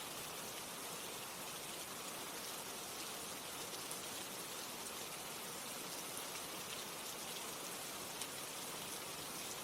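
Steady rain falls continuously, a soft even hiss of drops with no voices and no pauses.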